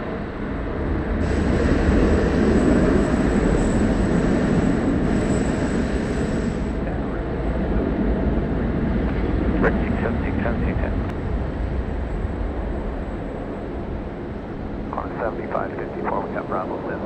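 A Boeing 747 jet rolls through a rapid exit taxiway at Sydney Airport, its broad engine roar steady and fairly loud throughout, with radio chatter and voices talking over it.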